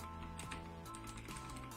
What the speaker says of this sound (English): another test that will validate this mic hopefully should be typing, because I have now a mechanical keyboard